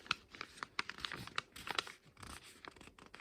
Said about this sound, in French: vous allez plier le papier.